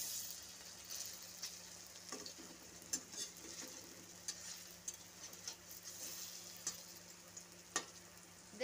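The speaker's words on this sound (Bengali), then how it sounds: "এক পিঠ ভাজা হয়ে গেছে, অপর পিঠ উল্টে দেব এবং উল্টে পাল্টে ভেজে নেব লাল লাল করে।" Jackfruit pieces frying in hot oil, a soft continuous sizzle broken by scattered clicks and stirring taps, close and fairly quiet with no talking.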